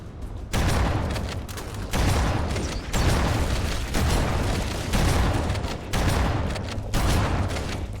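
Grenade explosions at fusion reactors in the game Halo CE: a dense, loud roar of blasts and rumbling fire arriving in repeated roughly one-second bursts, each followed by a short dip.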